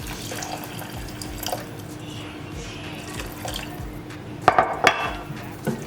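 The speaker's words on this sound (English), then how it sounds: "Then we're going to add 2 cups of hot water." Hot water is poured into a pot of seasoned rice, a quiet splashing pour with a few louder sloshes and clinks toward the end, heard up close.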